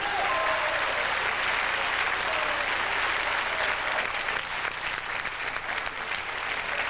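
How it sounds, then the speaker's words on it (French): A studio audience on the French quiz show Questions pour un champion applauds in a dense, sustained burst of clapping that stays loud and even from start to finish. "Caroline vous applaudit."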